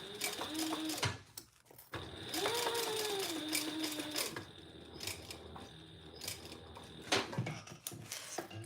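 A sewing machine stitches in short bursts with a whirring motor and rapid mechanical clatter, broken by brief pauses and handling clicks, at close range in a quiet room.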